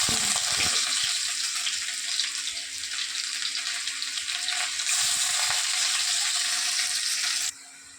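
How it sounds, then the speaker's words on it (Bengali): Papad frying in hot oil, giving a loud, bright, even crackling hiss with a low hum under it and a few soft knocks near the start, cutting down abruptly just before the end. "দুটো পাঁপড় ভেজে নিই"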